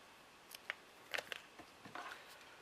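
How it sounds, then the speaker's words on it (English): Scissors snipping off excess material from a shabby chic craft butterfly, several small crisp cuts spread across a quiet stretch, close and faint. "I'll just cut that bit off that I don't need."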